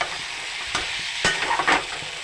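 Close, steady sizzle of liver curry frying in a pan right after tomato goes in, with scraping spoon strokes stirring through it and no voices.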